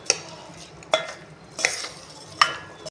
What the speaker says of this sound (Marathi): सगळं मिक्स करून घेऊया.